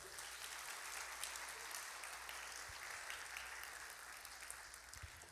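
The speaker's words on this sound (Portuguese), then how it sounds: "Você podia aplaudir ao Senhor?" A church congregation applauds steadily during a sermon on Jesus's resurrection, a dense, even wash of hand clapping that holds at constant strength from start to end, faint and somewhat distant, with no voices over it.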